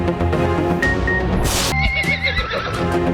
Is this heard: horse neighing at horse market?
yes